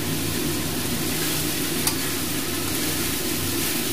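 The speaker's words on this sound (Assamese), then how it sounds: "আৰু এয়া অলপ ভাজি লৈছোঁ।" Broiler chicken pieces fry with chopped banana flower and potato in a pan, giving a constant loud sizzle with stirring scrapes throughout and one brief clink partway through.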